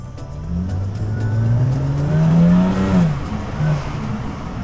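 A powerful Range Rover Sport engine revs up steadily, pitch climbing to a peak and then dropping back, heard close with no talking.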